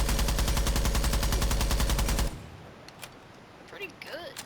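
A continuous burst of rapid automatic fire from an operator's gun in the video game Rainbow Six Siege, loud and close for about two seconds, then stops abruptly, followed by quiet background and faint clicks.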